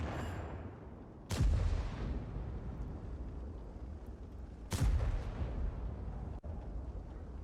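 Two heavy gunshot blasts a few seconds apart, each sharp and booming with a short ringing tail, over a steady background rumble of game sound.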